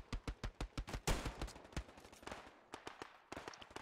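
Rapid automatic gunfire from the World War II shooter Hell Let Loose, a fast burst of sharp, loud shots followed by more scattered rounds and distant reports, with no talking over it.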